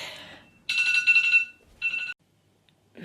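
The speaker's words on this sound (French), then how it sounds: "Ah ça c'était mon réveil." A bedside alarm clock goes off in two loud electronic ringing bursts separated by a short gap, bright and close, before cutting to silence and a brief noise at the end.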